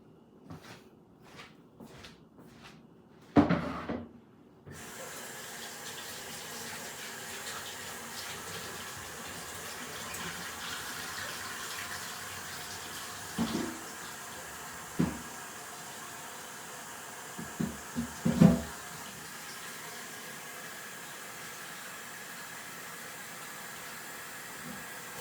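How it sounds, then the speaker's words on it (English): Water running from a tap into a bowl in a home kitchen while cooking, a steady hiss of flow after a few knocks and clatters, with occasional bumps of dishes along the way. "Now I'm going to put some water in here for the great bowl."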